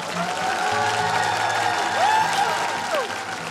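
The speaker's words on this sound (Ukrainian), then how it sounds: "Ваші аплодисменти." A concert audience at a televised Ukrainian song performance applauds steadily. Many hands clap densely as a dense wash of sound, with faint tonal sounds running underneath.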